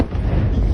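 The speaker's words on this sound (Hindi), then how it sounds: "रूस के क्रीमिया के इलाके में बड़ा धमाका सुनाई और दिखाई दिया है" A sustained, heavy low rumble with a broad roar, the drawn-out boom of a large distant explosion in Crimea, steady and loud throughout.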